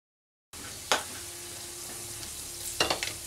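Cardamom pods, cinnamon sticks and cloves sizzle steadily in hot oil as whole spices for a Kolkata-style yogurt chicken, with a couple of sharp crackling spurts and stirring clatters over the continuous fry.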